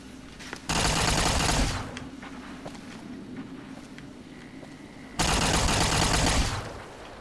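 Rapid automatic gunfire in the video game Fallout New Vegas comes in two dense bursts about a second long, loud and close, separated by a quieter stretch of scattered clicks and footsteps.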